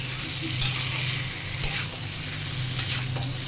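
Water goes into a snakehead fish curry as it fries, bringing a constant hissing sizzle with three sharp spoon clinks against the pot at regular intervals and a low rumble underneath.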